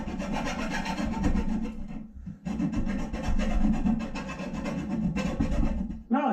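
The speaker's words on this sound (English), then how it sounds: "I've just got to clean my pipe now, so I'm going to go and deburr it from the outside" A plumbing pipe is deburred around its outside edge, giving a gritty rasping scrape that rubs back and forth in close, steady strokes with a brief pause, and nobody talks.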